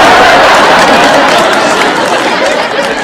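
Studio audience applause from a sitcom game-show setting, a dense, steady wash of clapping and crowd noise filling the whole stretch at a loud, even level.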